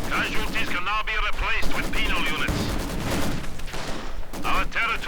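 In Company of Heroes 2 gameplay, a .30 caliber machine gun chatters and a field gun booms, with dense rattling gunfire and explosions. A commentator talks over the battle throughout.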